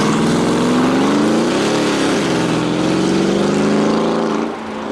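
Mercedes-AMG G63 SUV with a loud, steady engine note that swells slightly as if revving, dense and close throughout with no talk.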